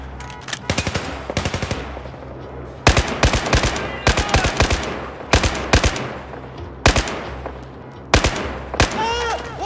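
Rapid bursts of automatic gunfire in the first-person shooter Battlefield 4, loud and close, firing in repeated clusters of shots over a steady low rumble, with brief gaps between volleys.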